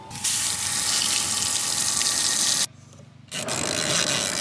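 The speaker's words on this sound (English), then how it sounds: "So it's a spinner washer." Water pours steadily and loudly into a portable spinner washer for clothes inside an Airstream trailer, a dense rushing flow that cuts off for about half a second and then resumes, with no talk.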